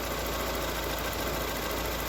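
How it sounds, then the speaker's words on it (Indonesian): A Toyota Great Corolla engine, idle speed raised as the ignition timing is advanced, runs with a steady, even hum close by, with no voices. "Kalau kita geser ke naik ke atas, nah, perhatikan RPM mesin naik"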